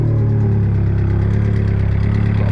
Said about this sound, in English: Obviously you've got an exhaust leak, that's another thing.